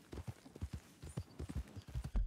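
Horse hooves clip-clopping in Red Dead Redemption 2, a quick steady run of soft thudding steps, fairly quiet, with no talk over it.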